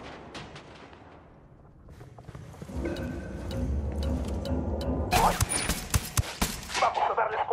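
Gunfire in Ghost Recon Wildlands, quiet at first, then a rumbling vehicle-like drone building before rapid volleys of sharp shots crack close and loud in bursts toward the end.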